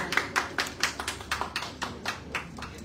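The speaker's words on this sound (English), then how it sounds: "Ladies and gentlemen, a big round of applause, please, for Attorney JT" Audience clapping at a send-off press conference for a Miss World Philippines contestant, sparse and fairly distinct claps in a rough, loose rhythm, moderately quiet and with no voices.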